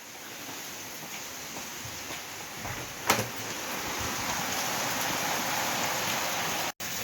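Heavy rain makes a dense, steady hiss, with one sharp knock partway through and a brief dropout near the end.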